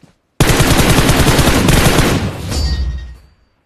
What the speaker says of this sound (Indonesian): Nembak musuh jarak jauh.